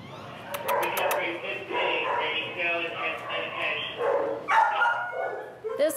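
Dog barking in a rescue shelter, an owner-surrendered dog, several sharp close barks and yips in a busy run, with people talking over much of it.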